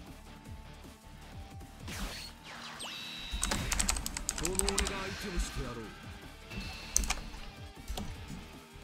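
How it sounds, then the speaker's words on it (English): Keyboard typing during a Dragon Ball Super card game session, with clicking keystrokes and a few louder clacks mixed with background game sounds and noise at moderate level. "You got to listen to the nice ASMR keyboard."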